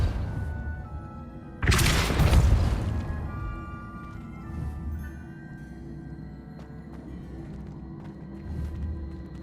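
Depulso spell cast in Hogwarts Legacy, a sudden loud booming blast that decays into a rumbling tail, followed by quieter game ambience and faint thumps.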